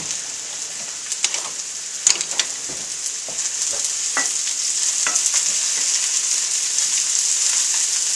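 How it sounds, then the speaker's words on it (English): Mushrooms sautéing in a pan over high heat, a dense hissing sizzle that swells slightly over time, broken by a few clicks and scrapes of stirring, with no one speaking. "And we're going to let these saute a bit"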